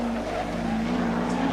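Touring cars from the 1985 Australian Touring Car Championship round at Sandown, including a JPS BMW, roar past in a continuous steady drone of racing engines with a sustained tonal whine, loud and unbroken throughout.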